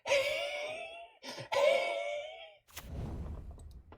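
A voice imitates a cockroach mating sound with long, wavering, breathy wails, then a hissing exhale of air trailing off.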